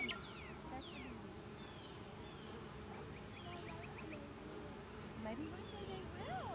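Bees hum faintly around an open hive during an inspection, a soft, low buzz beneath a steady, high insect drone, with quiet murmurs in the background.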